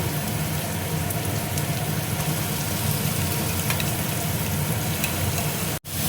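Prawn paste fries with Kashmiri chilli powder and spices in a pan, a steady dense sizzle running evenly throughout, close and fairly loud with no talk.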